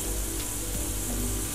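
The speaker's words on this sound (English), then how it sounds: "it will give you the sizzling sound" Honey-marinated pieces fry in a pan, making a faint, even sizzle that holds steady throughout.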